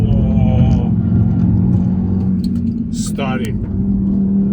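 An Audi RS3 on Continental SportContact 7 tyres accelerates hard, its engine giving a loud, steady low rumble from inside the cabin while someone speaks briefly over it.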